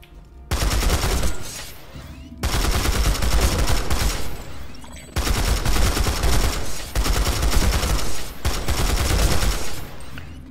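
A TMG-50 TR light machine gun in a video game fires four long, loud bursts of rapid automatic fire separated by short pauses, with no talk.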